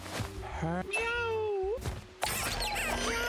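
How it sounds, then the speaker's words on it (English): A cartoon cat in the game Mewgenics meows excitedly as it knocks over a purse, with thuds and clattering spill sounds mixed among game effects, while a voice talks over it. "knocks the purse over and meows excitedly as lots of pills and coins spill out"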